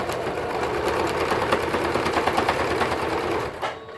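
A sewing machine top-stitches elastic onto footed tights in a fast, even, loud mechanical whir that runs without a break, with the stitching rhythm close and clear before it stops near the end. No one speaks.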